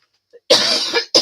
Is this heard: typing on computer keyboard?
no